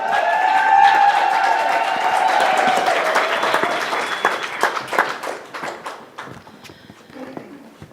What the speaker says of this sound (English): I want another humungi round of applause for this beautiful spirit and woman